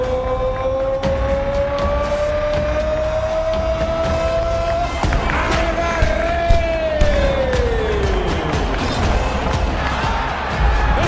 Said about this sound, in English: The entire crowd is on its feet.